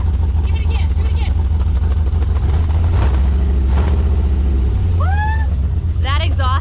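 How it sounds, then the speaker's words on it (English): An LS-swapped V8 in a Jeep revving through an unfinished, not fully connected exhaust, a loud deep rumble rising and falling in close blips, with people talking and whooping over it. "That exhaust sounds so good."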